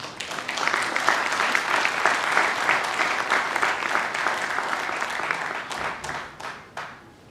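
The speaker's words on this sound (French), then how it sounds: "Nous devons l'applaudir." Audience applause for Alphonse Ntumbaloa at a gathering, dense steady clapping from many hands, moderately distant, holding for several seconds before tapering off into a few last claps.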